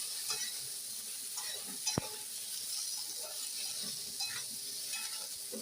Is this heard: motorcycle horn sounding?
no